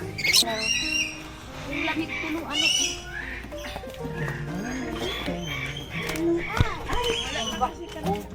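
A bird at a safari park gives loud, repeated squawks and harsh calls at close range, mixed in with people talking.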